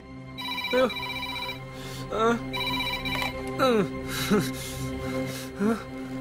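A telephone rings repeatedly at an STD phone booth, its bell pattern recurring in several bursts over steady background music, with no talk in between.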